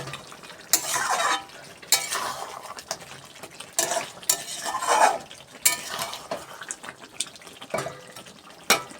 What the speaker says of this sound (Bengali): আর একটুখানি কষুক, তারপরে জল দেবো।